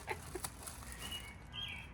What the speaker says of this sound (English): The birds are going crazy.